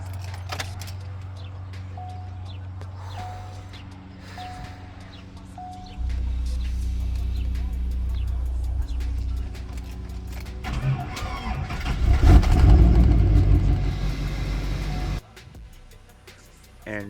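A LMM truck with a starting fault cranks, catches and runs with a low, uneven idle, rumbling louder mid-clip with a rough surge before settling, alongside faint jingling and clicks, no voices.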